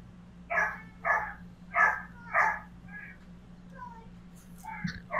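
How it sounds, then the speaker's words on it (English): Dog barking in a series of four evenly spaced barks followed by softer yips and whines, moderately close over a low steady hum. "Guys, do you hear dogs?"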